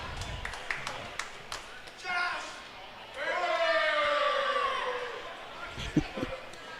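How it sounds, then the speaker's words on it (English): A lacrosse crowd at an arena swells in a rising cheer after a goal, with a play-by-play commentator talking over it and scattered thumps and claps around the roar. "You can hear the crowd reaction"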